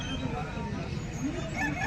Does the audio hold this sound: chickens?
yes